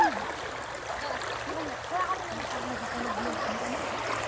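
A strong river current rushes in a steady, broadband wash close by where people are about to bathe, while voices talk over the flowing water.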